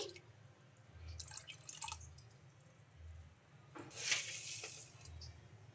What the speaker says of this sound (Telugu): ఇంకా అలాగే ఒక కప్పు వాటర్ కూడా వేసుకోవాలి